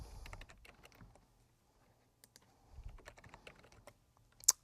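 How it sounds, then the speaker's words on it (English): Keys clatter on a computer keyboard in short irregular bursts of quiet, close clicks, pausing briefly midway before resuming, with a sharper click at the very end. "You must type in a unique name for each hierarchy."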